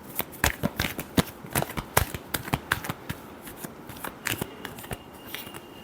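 Tarot cards shuffled by hand in a steady run of sharp, close snaps and riffles, repeating irregularly for several seconds with no talking.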